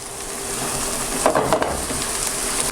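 Onion fries in a pan for a mushroom pasta, giving a steady close sizzle with a brief burst of stirring scrapes near the middle.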